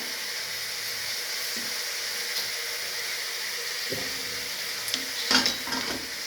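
Bottle gourd and hilsa fish head curry simmering in a pan as green chilies are stirred in, a steady low sizzle with soft spoon scrapes and a brief clatter of utensil against the pot near the end.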